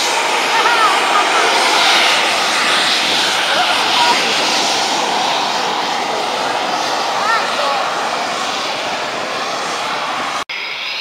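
A Eurofighter Typhoon jet at RAF Coningsby roars loudly and steadily, its engine noise sustained and close, fading slightly toward the end before an abrupt cutoff; people can be heard talking over it.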